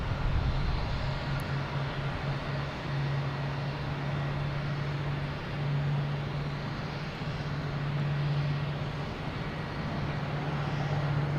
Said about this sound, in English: There's JetBlue coming in from Richmond in A220.